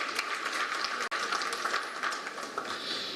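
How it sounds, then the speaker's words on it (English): Applause from an event audience at an awards ceremony, a dense steady patter of many hands clapping at moderate distance, briefly cut off near the middle, then carrying on evenly to the end. "I believe a bigger round of applause is in order."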